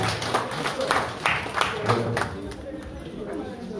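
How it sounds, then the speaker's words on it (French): An audience at a patronal festival gathering bursts into warm applause, a crowd of clapping hands mixed with voices and chatter that tapers off after a few seconds. "Je vous demande d'applaudir chaleureusement."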